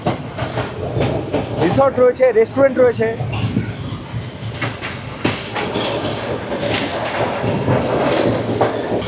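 A Colombo-to-Galle train running along the Sri Lankan coast rumbles and clatters loudly nearby, with wheel squeals and rhythmic rail clicks, while a voice talks briefly over the noise.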